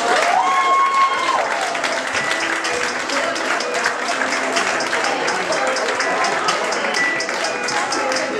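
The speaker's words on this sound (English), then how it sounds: "I want you to start clapping it up for Ivana Trump." A comedy-show audience in Rahway applauds steadily and densely for a performer, a continuous wash of clapping with some crowd voices mixed in.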